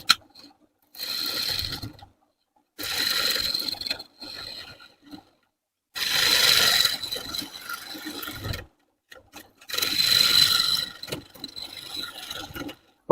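Wood lathe cutting waste wood off a bowl blank, heard as loud bursts of scraping and hissing tool contact separated by short silent pauses, about four passes close up.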